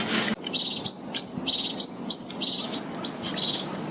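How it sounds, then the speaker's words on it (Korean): Small birds chirp and tweet in quick repeated bursts along a mountain trail near Homyeongsan's lake, the calls close and bright, rising and falling in a steady rhythm over faint background hiss. "새소리 가득한 곳에서"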